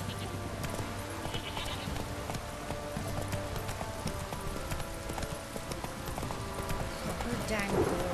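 Hoofbeats of the horse Roach galloping in The Witcher 3, a steady clip-clop under game music and ambience with a voice talking over it.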